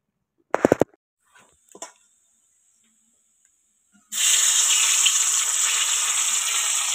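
Fish frying in hot oil gives a loud, steady broadband sizzle that starts abruptly and carries on unbroken, after a few short clatters and taps in a quiet kitchen.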